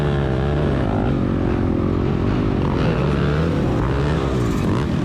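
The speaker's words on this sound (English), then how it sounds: "You can hear I'm revving it pretty good." A dirt bike engine revs hard and continuously in a creek bed during a woods race, loud and close, with a rough, buzzing drone that rises and falls slightly.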